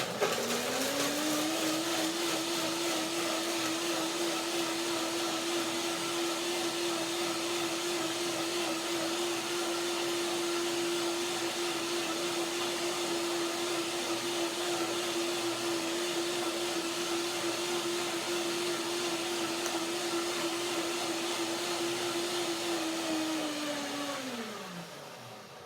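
Blender running steadily on cashews, lemon and water, a loud continuous motor whir holding one pitch for over twenty seconds before winding down at the end, with no talking.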